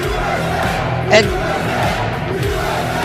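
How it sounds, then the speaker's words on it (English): A crowd at a wrestling event roars and cheers continuously, a steady loud wash of voices with a commentator talking over it. "you can hear the roar of the crowd."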